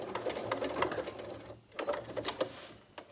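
Sewing machine stitching a buttonhole in fabric, a fast rattling run of needle strokes that pauses briefly halfway before resuming in short bursts, close and moderately loud.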